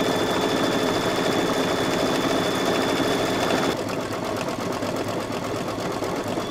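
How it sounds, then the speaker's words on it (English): A home embroidery machine stitching appliqué on a hooped quilt block, a steady rapid mechanical whir and clatter with strong rattling vibration as the machine shakes, switching to a slightly different rhythm partway through, no talk. "Oh, my poor machine's shaking like crazy."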